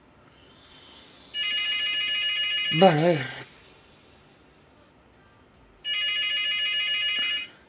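Two bursts of an electronic room telephone ring, separated by a pause in which someone speaks briefly; the rings are loud and steady.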